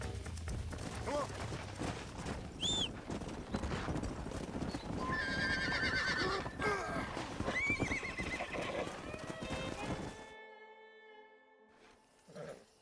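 Horses in the video game Red Dead Redemption neigh loudly and their hooves clip-clop steadily over several seconds, with a voice speaking and the scene dropping to quieter music near the end.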